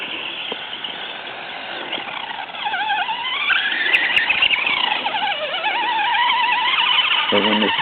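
FTX Kanyon RC crawler running flat out, its small electric motor giving a high, continuous whine that rises and falls in pitch with speed, close and steady, with a short clatter near the end.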